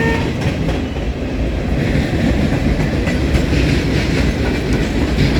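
A freight train rolls past close by, its cars including a Rock Island hopper in light blue paint, with a loud continuous rumble and clickety-clack of wheels that holds steady throughout.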